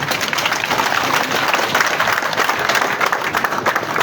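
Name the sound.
big applause for the President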